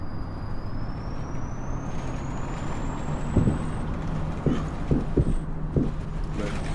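A bus pulls in with an idling engine rumbling low throughout, while a few short air-brake hisses and clicks pop out near the end; no one speaks.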